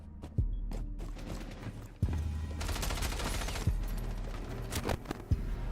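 Video game gunfire of scattered, fairly faint shots and thuds over a busy background of footsteps and movement noise. Single sharp hits land at irregular moments throughout.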